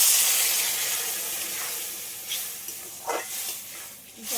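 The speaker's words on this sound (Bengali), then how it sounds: "এবার আমি পরিমাণ মতন জলটা দিয়ে দিচ্ছি।" Water poured into a pan of mustard paste curry with prawns and vegetables, giving a soft steady hiss and sizzle with a couple of brief louder bursts near the end, no talking.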